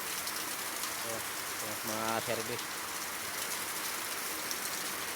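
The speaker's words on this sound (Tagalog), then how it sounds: "kailangan papatilain mo na ang ulan. Yan, malakas." Heavy rain pours down steadily throughout, a dense constant hiss with a brief voice speaking in the middle.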